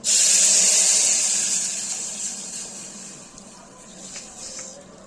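Buttermilk mixture poured into a hot, scorched spice tempering in a pan for kadhi pakora, giving a loud bright sizzling hiss that begins at once and slowly fades, with a few small pops near the end.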